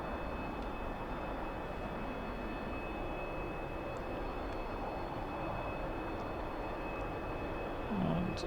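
A T-45C Goshawk jet in the DCS flight simulator sits on the runway, its engine giving off a steady, broad rumble with a thin high whine held throughout.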